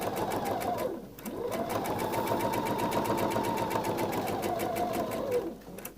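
A sewing machine back-stitches and then runs a long seam along a dress, its needle chattering in a steady, fast, close rhythm with a brief pause near the start and a slowdown at the end.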